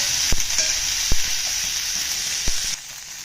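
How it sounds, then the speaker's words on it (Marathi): Cumin, onion and garlic frying in hot oil, a bright continuous sizzle close by with a few sharp taps of a spoon against the pan. "तर आता तेल पण चांगलं तापलंय आता जिरे टाकून घेते"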